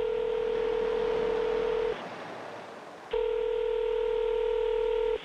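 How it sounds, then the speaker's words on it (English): A telephone ringback tone heard while placing a call: two long steady electronic rings, each about two seconds, separated by a pause, clear and fairly loud. "Listen to the phone ring, trying to call Luke."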